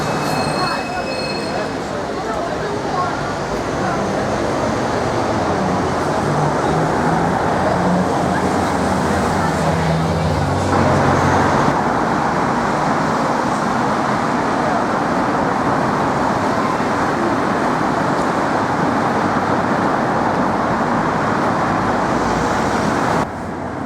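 Heavy, continuous traffic roar on Marylebone Road in London, a dense wash of passing vehicles close by and loud throughout, with a voice talking over it.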